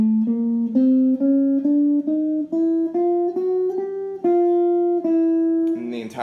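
Guitar solo riff from Killer Klowns from Outer Space played on electric guitar, a clear run of single picked notes stepping upward in steady rhythm, then a short strummed flourish at the end.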